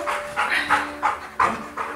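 A dog close by gives a run of about six short, high whimpering yelps and small barks in quick succession, with brief pauses between them.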